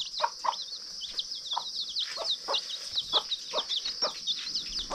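Chickens cluck in short, repeated bursts at close range, while high chirping birdsong carries on steadily in the background.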